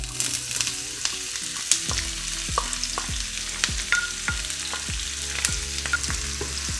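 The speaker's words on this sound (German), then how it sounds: "Die Zwiebel wird angebraten, bis sie goldbraun wird." Onion fries in heated sunflower oil in a pan for mashed potatoes, a loud, steady sizzle with occasional stirring scrapes and crackles.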